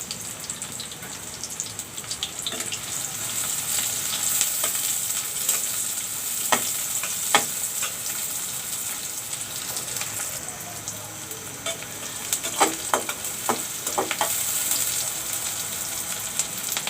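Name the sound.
chopped onions frying in a pan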